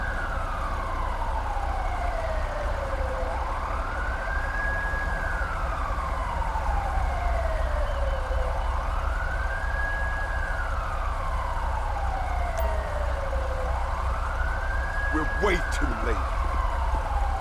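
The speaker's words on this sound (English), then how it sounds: "Stole a Blaine County ambulance." A stolen ambulance siren in the video game Grand Theft Auto V wails in slow rising and falling sweeps, three full cycles repeating over a constant low engine rumble.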